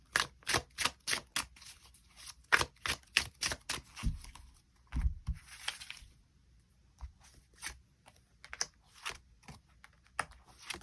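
Tarot cards shuffled by hand, a quiet run of rapid crisp riffling clicks and soft slaps in quick bursts, close and alone with no talk.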